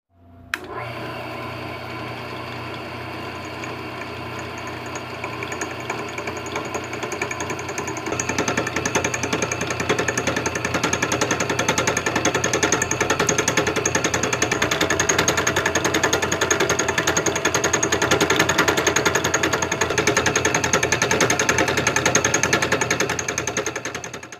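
A power tool cuts a curved notch into a steel piece, descending vertically to match the radius of a 2.5-inch tube, running as a steady, loud grinding drone that builds after a few seconds and holds continuously to the end.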